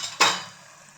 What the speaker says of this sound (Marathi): परत एकदा मिक्स करून घ्यायचं.